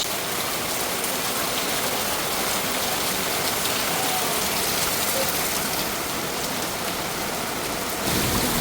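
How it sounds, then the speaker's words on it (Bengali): Steady rain pours down outdoors in Bangladesh, soaking jackfruit left out in it, a dense unbroken hiss that holds level throughout and swells slightly at the very end. "অবশেষে বৃষ্টির দেখা পেলাম এত সুন্দর বৃষ্টি হচ্ছে"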